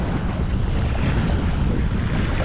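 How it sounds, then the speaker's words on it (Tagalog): Steady, loud wind roars across the microphone in a dense, unbroken rush beside a boat, with no voices. "Medyo mahangin pero ayos lang."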